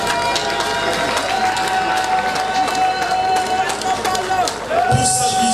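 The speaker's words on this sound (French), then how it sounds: "que je vous demande d'applaudir" Crowd at a ceremony marking 35 years of a Congolese roads and drainage office applauds and cheers steadily, a dense wash of clapping with voices and a sustained whistle or horn tone running through it.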